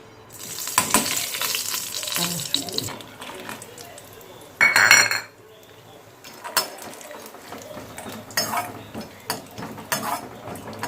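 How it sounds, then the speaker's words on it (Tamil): Cashews frying in ghee for a Tirunelveli-style moong dal laddu, a soft steady sizzle under scattered clinks of a spoon against the pan, with a brief louder burst of clatter midway. "நெய்யில் முந்திரி பருப்பு வறுத்துக்கிறீங்களா?"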